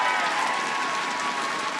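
A dense wash of crowd applause and cheering for a player at a college esports championship final, loud and continuous throughout with no gaps.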